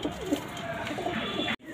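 Blue pigeons cooing in a loft, a steady murmur of soft low coos filling the whole stretch, close and continuous, cutting off abruptly near the end.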